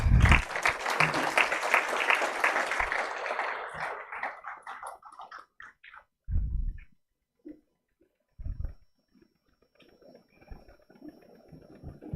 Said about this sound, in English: May we have a round of applause.